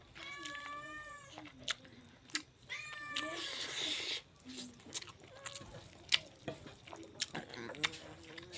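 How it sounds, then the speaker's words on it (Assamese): A cat meows repeatedly, close and clear, with drawn-out plaintive cries spaced by pauses, alongside light clicks and drips in the background. "মাছ দিলোঁৱে মেকুৰীক, আকৌ বোলে মাছ লাগে এতিয়া"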